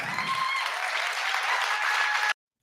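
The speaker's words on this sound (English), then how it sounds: "Is that really an applause line?" A live audience at a TEDx talk breaks into applause. The dense, even clapping is fairly close and sustained for about two seconds before it cuts off sharply.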